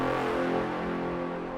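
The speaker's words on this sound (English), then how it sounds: "And then we have another horn sound here." A dense, brassy horn sample from a techno track holds a rich harmonic chord for under two seconds and fades slightly at the end, with no voices.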